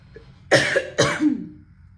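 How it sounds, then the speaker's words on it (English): A woman coughs twice in quick succession, close and loud, each cough a sharp burst that trails off, with no other sound around it. "Excuse my cough."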